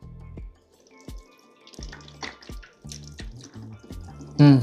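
Water poured from a bottle onto the substrate of an African giant snail's enclosure gives a series of separate close drips and small splashes, ending in a louder burst of pouring.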